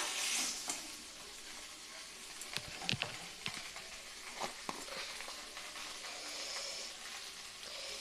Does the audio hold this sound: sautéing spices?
yes